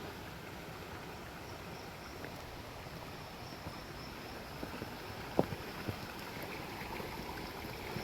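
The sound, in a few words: stream water flowing between rocks from a waterfall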